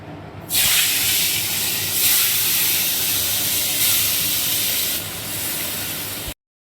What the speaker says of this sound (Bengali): তেল গরম হয়ে গেছে এবার আমি মাছগুলো একে একে ভেজে ফেলব